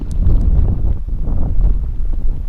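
Strong gusting wind from an approaching hurricane in Hawaii buffets the microphone with a loud, continuous low roar that swells and dips, with no voices.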